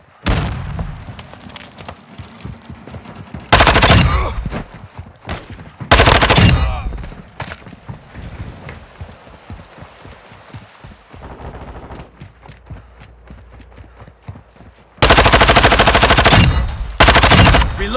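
Video game machine gun fire in loud, sustained bursts of rapid shots, heavy and close, separated by quieter stretches with scattered single shots and distant gunfire.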